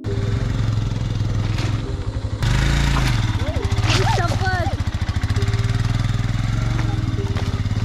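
A motorcycle labors along a badly broken, rough road on the way to a Sahyadri waterfall, its engine droning steadily and close with a brief revving surge. Voices talk over the engine and the ride rattles.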